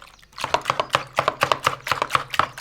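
A knife chops through a 200-gram block of butter on a board, cutting it into quarters with about a dozen quick, crisp strikes in a steady rhythm, close and fairly loud with no talking.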